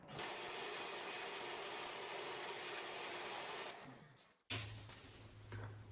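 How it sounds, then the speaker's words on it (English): A vacuum blows out a freshly drilled anchor hole: a loud, steady blast of rushing air runs for about four seconds, dies out, then a lower-pitched motor hum starts up abruptly. "get the vacuum and blow that out."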